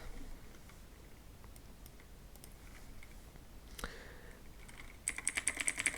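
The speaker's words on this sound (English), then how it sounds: "Just type here anything you want" Light, scattered keystrokes sound on a computer keyboard as text is typed into an online profile form, faint over a steady background hiss, with a quicker burst of clicks at the end.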